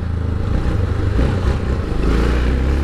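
A Yamaha XT660 motorcycle engine rumbles steadily up close, with low droning throughout and some rattling clatter as it rides along.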